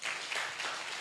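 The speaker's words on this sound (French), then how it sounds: "acclamez pour vous-même" An audience in a lecture hall bursts into brief, dense applause, a loud wash of many hands clapping together for about a second.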